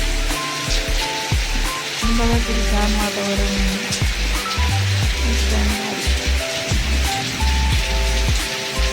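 Heavy monsoon rain pours outside in Bengal, a steady dense hiss running through the whole stretch beneath tonal background music, with someone speaking briefly over it.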